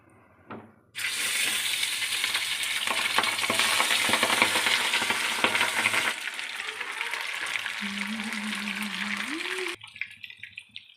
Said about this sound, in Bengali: সর্ষের তেল আমার গরম হয়ে এসেছে, ওই যে ভাপ উঠছে। তো একে একে মাছগুলো আমি দিয়ে দেব।